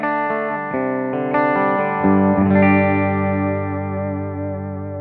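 A Charvel Pro Mod Relic San Dimas electric guitar through its bridge humbucker, with heavily distorted, effected chords struck in a quick rhythmic run before a final chord rings out, loud and up close.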